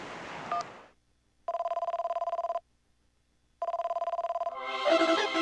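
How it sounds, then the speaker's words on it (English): Two bursts of an electronic telephone ring from Game & Wario, each a rapid trilling warble lasting about a second, separated by silence, bracketed by brief game jingles and sound effects before and after. "I didn't expect the phone to ring."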